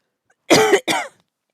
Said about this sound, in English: I've been coughing.